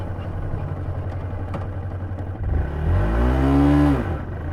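A Yamaha R125 motorcycle idles with a low throb, then revs up sharply, its pitch rising and holding high for about a second before dropping back, loud and close with no talking.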